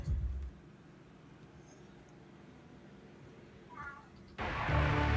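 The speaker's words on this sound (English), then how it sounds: "Blackjack is outside the door meowing at me to let him in" Blackjack the cat gives a single short, muffled meow from outside a closed door, preceded and followed by louder bursts of nearby noise.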